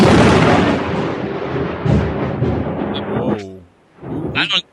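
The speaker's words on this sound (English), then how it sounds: "Who just dropped the thunder on that one?" A thunder sound effect booms in a deep, rolling rumble that fades over a few seconds, followed by brief sharper bursts near the end.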